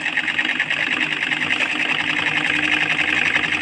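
A sewing machine runs a straight seam on a pocket for a ladies' pajama, giving a fast, steady mechanical whir and chatter up close, with a voice speaking over it.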